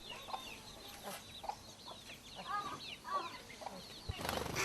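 Indigenous backyard hens cluck softly and intermittently in short chirpy bursts at a distance, with a low ambient hum and a louder rustle near the end. No one speaks.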